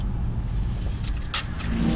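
A car drives along a road, its engine and tire noise a steady, fairly close hum that rises slightly toward the end.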